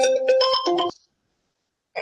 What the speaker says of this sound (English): that was somebody's phone